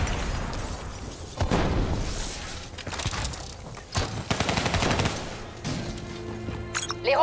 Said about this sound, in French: Ils sont sur le point d'exploser!